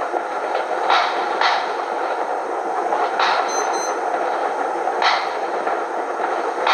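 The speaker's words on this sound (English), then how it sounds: "Don't mind me, I'm only looking at the fireworks anyway." Fireworks burst in the distance at the start of the year, several separate booms and crackles spread across the stretch, each followed by a short rumble over steady background noise.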